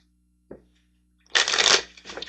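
Tarot cards shuffled close by, a short riffle followed by a longer crisp flutter and a brief final burst, quiet room otherwise.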